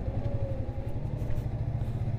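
A heavily loaded truck passes close on a narrow, rough road toward a beach, its mid-pitched engine rumbling and clattering steadily and loudly with no pause.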